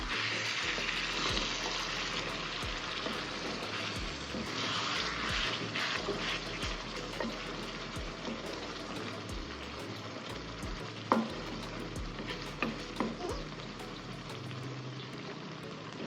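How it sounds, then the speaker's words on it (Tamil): Egg thokku with fresh coriander leaves sizzles steadily in a pan while a spoon stirs it, scraping with occasional sharp knocks against the metal, and no one speaks. "கொத்தமல்லி இலை போட்டதுக்கப்புறம் அகைன் திருப்பி விட்டுப்போம்"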